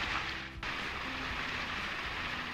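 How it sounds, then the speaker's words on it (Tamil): Light drizzle falling while driving past the Chengalpattu toll on the Chennai to Tindivanam road, a steady soft patter and hiss over low road and engine rumble, continuous throughout. "மழை லைட்டாக தூறல் போட்டுட்ருக்குது"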